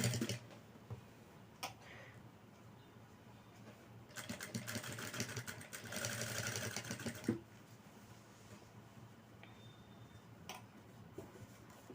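A sewing machine stitches along the neckline of a blouse in one steady run of a few seconds, fairly quiet, with softer ticking and handling noises before and after.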